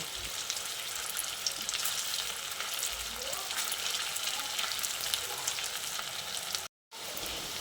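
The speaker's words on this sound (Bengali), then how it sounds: "এক সাইডটা হালকা ভাজা হয়ে গেলে এগুলোকেও উল্টে পাল্টে নিচ্ছি" Soya kebabs fry in hot oil in a pan, giving a steady, bright, crackling sizzle throughout that cuts out briefly near the end.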